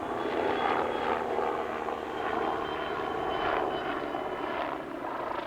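An MBB Bo 105 helicopter with a rigid rotor head and composite blades flies aerobatics at the California International Airshow, a steady, distant engine and rotor roar that swells and fades slightly across the whole stretch.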